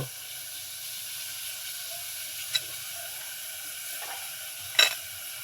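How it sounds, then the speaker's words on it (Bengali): Rice flour goes into salted boiling water and is stirred, a quiet steady simmering hiss broken by two brief sharp scrapes or clinks of the spoon against the pan. "আমি এখন চালের গুঁড়োটা দিয়ে দিচ্ছি"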